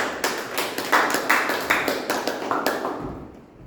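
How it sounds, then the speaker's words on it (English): Small audience clapping at a Toastmasters meeting, a steady patter of hand claps for about three seconds that thins out and fades to quiet at the end. "Please give her a round of applause."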